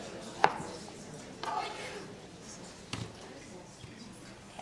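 A big Roma tomato is cut into eighths, giving a few separate knife chops on a cutting board spaced over several seconds, fairly faint, with a voice talking in between.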